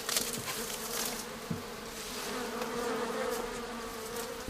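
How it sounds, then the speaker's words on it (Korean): Honeybees swarm thickly over a beehive lid brought down from a tree, making a dense, continuous buzzing hum that stays loud and steady from start to finish, with no one talking. "뚜껑엔 빈자리가 보이지 않을 만큼 벌이 뒤덮여 있다"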